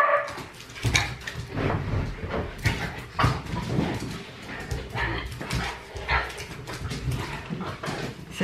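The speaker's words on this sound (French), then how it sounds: "Riley, elle rebondit sur le canapé et elle saute sur le chien." A dog being jumped on by another pet on a couch in a home, with busy rustling and thumping, soft whimpers, yips and occasional barks running throughout.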